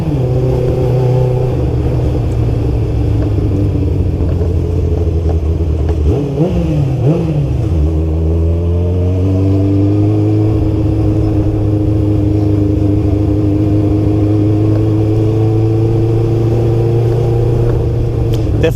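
Engine of a Kawasaki Ninja GPX600 motorcycle, fitted with a changed sprocket, revs up loud and close with a brief dip and shift around the gear change from first to second, then holds a steady drone.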